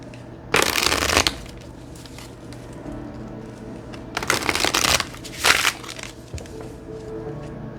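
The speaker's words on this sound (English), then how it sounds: "I like to shuffle on camera, so they are not pre-selected." Cards are riffled and shuffled in three loud bursts, with quieter pauses between, close up and without speech.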